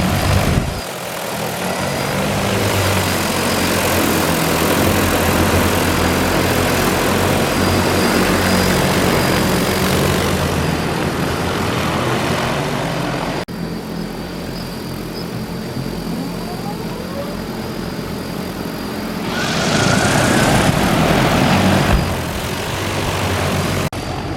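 Loud, steady whirring of large agricultural spray drones flying close by while spraying a crop, a continuous droning roar that swells briefly near the end.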